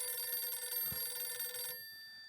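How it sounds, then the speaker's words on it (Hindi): A telephone rings indoors in a Hindi TV sitcom scene, a steady, moderately loud electronic ring that stops abruptly after under two seconds, with no talk over it. "अय्यर का फोन स्पीकर पे रखो।"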